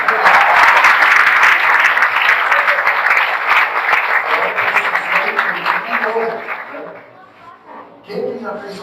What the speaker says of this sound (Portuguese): Dá uma aplauso ao Senhor.